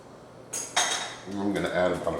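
A metal fork clinks and scrapes against a bowl of Southern-style potato salad during a taste test, a few close bright clatters and stirring scrapes.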